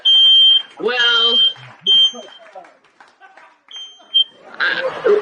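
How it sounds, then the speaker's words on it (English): A household smoke alarm sounds in loud, high-pitched steady beeps that repeat across the span, interleaved with people talking nearby. "now we know that the smoke alarm works"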